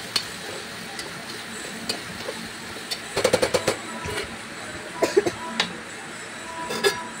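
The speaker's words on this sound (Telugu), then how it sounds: "నేనైతే రాళ్ళుప్పు యూజ్ చేస్తున్నానండి, పసుపు యాడ్ చేసి బాగా కలుపుకోవాలండి" Potatoes with rock salt and turmeric are stirred in a metal pan, giving scattered sharp clinks and scrapes with a quick cluster of taps in the middle and more toward the end.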